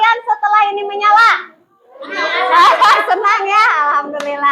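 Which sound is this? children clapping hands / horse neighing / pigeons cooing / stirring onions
children clapping hands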